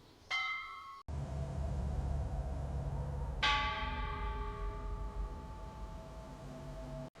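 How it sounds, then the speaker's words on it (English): Church bells toll in plague-stricken London of 1348, a faint bell tone at first, then a fuller ringing strike with a long humming decay over a low rumbling background. "The church bells never stop ringing now."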